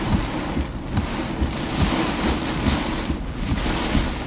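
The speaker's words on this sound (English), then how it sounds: "Wind and rain." Wind and heavy rain during a tornado-risk thunderstorm in Iowa, a steady loud roar of rain and gusting wind with continuous noise throughout, no speech.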